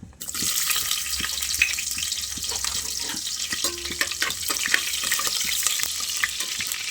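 Onions frying in hot oil in a pan, a steady loud sizzle with occasional stirring clicks and scrapes running continuously throughout.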